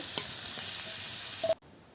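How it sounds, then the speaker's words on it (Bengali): Potatoes fry in hot oil in a pan with a quiet, steady sizzle and a few small pops, then the sound cuts off abruptly near the end. "দিয়ে আলুটাকে ভালো করে ভেজে নিচ্ছি।"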